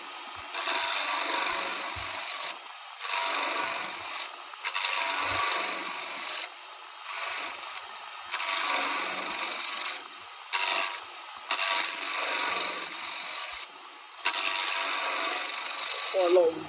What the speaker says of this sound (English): I'm actually going to go to my roughing gouge at the moment